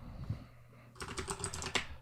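Typing on a computer keyboard, a quick flurry of close key taps that starts after a short quiet lead-in and runs to the end.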